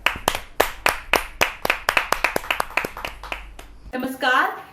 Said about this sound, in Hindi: जोरदार तालियों से उनको आमंत्रित करना चाहता हूं, रीता सिंह जी।